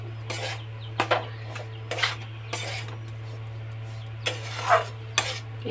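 A big spoon stirs a thick sweet mixture in a pan for a Raksha Bandhan treat, giving irregular scraping strokes and soft metallic knocks against the pan over a steady low hum, close by.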